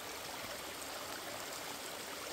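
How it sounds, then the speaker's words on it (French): A small river flows steadily outdoors, a dense, even broadband rush of running water with gentle trickling detail, constant and moderately loud with no voices. "on a notre petite rivière personnelle"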